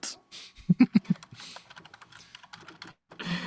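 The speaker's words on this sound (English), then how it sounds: "I am typing an ATM machine right now on the Discord." Computer keyboard typing: a quick cluster of louder key presses followed by lighter, scattered taps, close-up in a quiet room.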